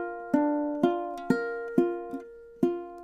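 Measure 23 of a song on ukulele: six plucked notes, mostly evenly spaced with one softer note, each ringing out and fading, played close with no talk.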